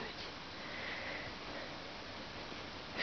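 Soft, close sniffing from a dog, a steady run of short nasal breaths with faint rustling and a low background hum.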